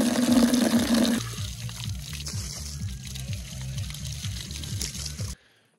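Water runs from a tap into a container for a makeshift shower beside a broken caravan, a steady rushing flow with a rhythmic pulsing undertone, ending abruptly near the close.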